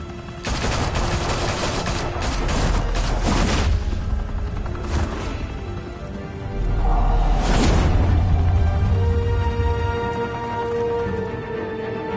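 Bursts of Batman video game gunfire crack out in dense volleys, with a rapid fusillade early on, then scattered heavy blasts and booms under a rumbling background.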